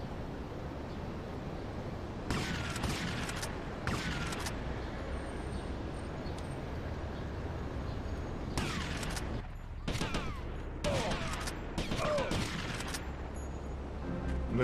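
Machine gun fire in Grand Theft Auto: Liberty City Stories, several short bursts of rapid shots breaking over a steady background, fairly close with pauses between volleys.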